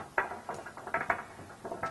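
Metal bolts with tapered washers being threaded into a cross member on a 2-door Jeep JL 3.6L skid plate system, giving a string of short ratcheting, clicking bursts close by, with no talk.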